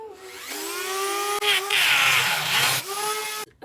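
A Dremel rotary tool cuts through a plywood subfloor during a school bus conversion, giving a steady high-pitched whine that dips briefly, rises into a harsher grinding stretch as it bites the wood, then cuts off near the end.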